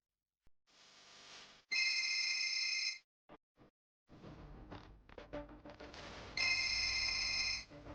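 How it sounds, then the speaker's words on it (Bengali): A phone rings in bursts of a bright electronic ringtone, two loud rings separated by clattering and rustling noises, with no talking. "কার ফোন রে? আরে তুলছিস না কেন তুই?"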